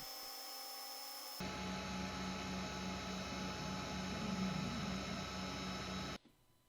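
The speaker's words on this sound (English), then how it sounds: "The laser will start removing material on the plywood along the outlines created." A laser cutter cutting out a plywood race track, with a steady mechanical hum and whir that starts abruptly, runs evenly for several seconds, then stops suddenly.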